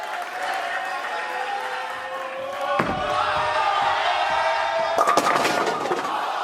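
Crowd at a professional bowling stepladder final cheering and applauding, a broad roar of voices with scattered claps in an arena, swelling midway and punctuated by sharp bursts near the end.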